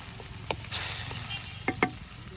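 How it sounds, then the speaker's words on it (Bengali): Spice paste of ginger, cumin, chili and turmeric with salt frying in oil in a village kitchen, a soft steady sizzle with a few brief scraping stirs, fairly quiet. "মশলাটা খুব ভালোভাবে কষিয়ে নিব।"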